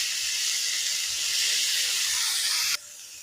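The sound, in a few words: paneer pieces shallow frying in a pan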